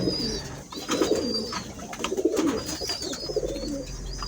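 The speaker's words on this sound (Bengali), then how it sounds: "এটা গুটঠোঁটের একটা নর কবুতর আর ছাপচিল একটা মাদি।" Domestic pigeons in a home loft, including a male and female pair, cooing in repeated low throaty bursts close by, with a few faint chirps from other birds in the background.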